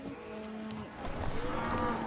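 Cattle on an Argentine ranch, cows separated from their calves, mooing in long low bellows, one drawn-out call followed by overlapping lowing from nearby animals.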